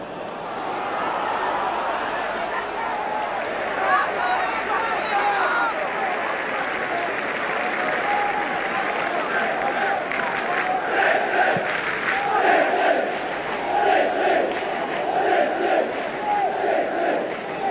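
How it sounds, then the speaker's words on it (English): Norwich City supporters in the football crowd at Portman Road keep up a loud, continuous roar of chanting and shouting, swelling in rhythmic surges across the stand throughout. "it's the Norwich City supporters who are making the most noise."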